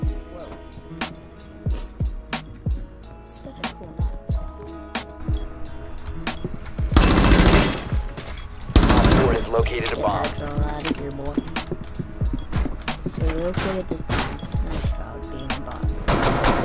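Automatic gunfire in Rainbow Six Siege comes in short bursts and scattered single shots, with two loud dense volleys in the middle, under a player's frequent talking.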